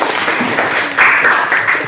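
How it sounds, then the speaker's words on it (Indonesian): Students in a classroom clap together for a couple of seconds, a dense patter of hands close by that swells slightly midway and holds steady, with no talking over it. "Ya kita beri aplaus tepuk tangan"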